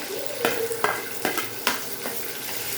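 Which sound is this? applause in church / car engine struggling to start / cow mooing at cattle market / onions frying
onions frying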